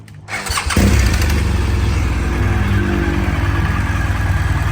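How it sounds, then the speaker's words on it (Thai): A 2018 BMW R1200 GS motorcycle in tricolour livery is started: a short starter whir, then the engine catches and settles into a loud, steady, throbbing idle close by, with no talking. "เดี๋ยวเดี๋ยวมาสตาร์ทฟังเสียงกันก่อนนะ"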